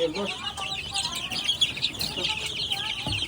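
Week-old chicks of White Kelso and Goldenboy Sweater breeds in a cage, a busy chorus of high, continuous peeping and chirping from many birds at once, close and lively throughout.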